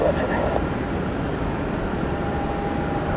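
An airliner rolls for takeoff at Tampa International, a steady broad roar of jet engines filling the scene without letting up, with faint radio talk from the tower heard beneath it.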